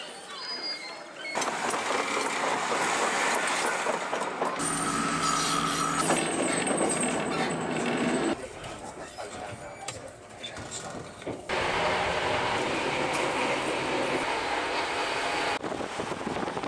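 Rumbling and clattering inside a moving train carriage travelling from St. Ives, Cornwall, loud throughout with shifting wheel and track noise, brief squeals and changes in tone as the carriage rolls on.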